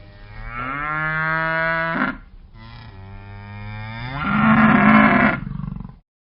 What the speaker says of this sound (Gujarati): ગાય ભાંભરે છે.